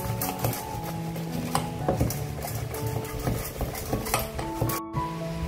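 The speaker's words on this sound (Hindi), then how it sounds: "अंडा मैंने फेंट लिया, तैयार कर लिया" Eggs whisked in a bowl for an omelette, with repeated light clinks and scraping strokes against the bowl in an irregular rhythm, close and moderately loud, with faint musical tones in the background.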